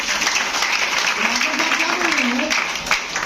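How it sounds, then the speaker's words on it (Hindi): Loud, dense applause fills a hall at a DXN distributor meeting in Patna, with a voice speaking over the clapping midway. "एक जोरदार ताली मास्टर साहब के लिए"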